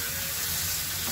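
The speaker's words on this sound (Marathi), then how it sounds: "असं आपण थांबून थांबून थोडं परतायचं" Chicken coated in masala sautéing in a pan for a CKP-style chicken dish, giving a close, steady, hissing sizzle that holds evenly throughout with no voices.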